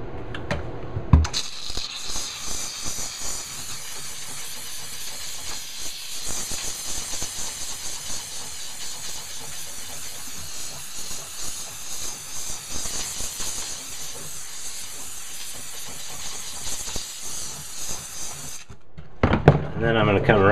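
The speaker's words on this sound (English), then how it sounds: "Now I'm going to come in with the steam." A McCulloch MC1275 steam cleaner steams a surface with a steady, close, loud hiss that runs almost continuously for about eighteen seconds, with faint mechanical rattles beneath before cutting off at the end.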